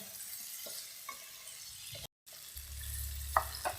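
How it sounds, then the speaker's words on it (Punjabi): Potatoes cook in a pan for a new-potato and spinach dish, giving a soft, steady sizzle with faint stirring and a few light clinks, broken by a brief silent gap and then a low rumble. "ਆਲੂ ਨੂੰ ਪਹਿਲਾਂ ਥੋੜਾ ਜਿਹਾ ਪਕਾ ਲਾਂਗੇ"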